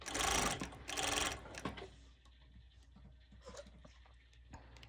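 A sewing machine stitches ruffles in two loud, rapid buzzing runs of about half a second each. Quieter mechanical ticks and small clicks follow close by.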